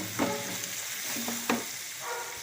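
Tomatoes and onions sauté in a pan with chilli powder, a close, steady sizzle broken by a few sharp clinks and scrapes of a spoon stirring the mixture.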